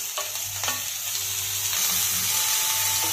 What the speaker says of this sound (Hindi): और जब तक प्याज और टमाटर हल्के से गल ना जाए, तब तक हमको इसको पकाना है